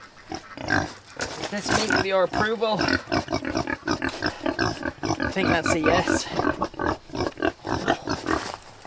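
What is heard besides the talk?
pigs grunting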